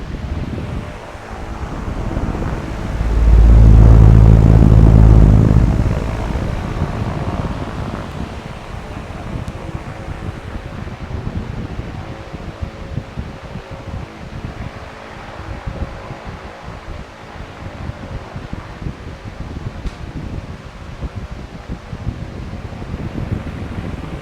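A 30-inch, 9500 CFM non-oscillating shop fan roars steadily with a whooshing rush of air, briefly surging louder before settling into a continuous blowing hum.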